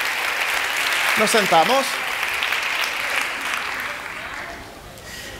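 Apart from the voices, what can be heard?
audience applause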